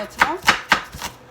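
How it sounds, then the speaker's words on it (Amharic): An onion being chopped with a knife on a board, four or five crisp, evenly spaced strikes close up, with no talk over them. "ከዛ ቀጥዬ ሽንኩርቴን እከትፋለሁ።"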